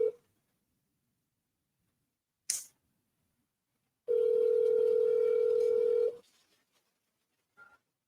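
A phone call rings out as a single steady ringback tone of about two seconds. A brief click comes before it and a short faint blip follows, with no voices.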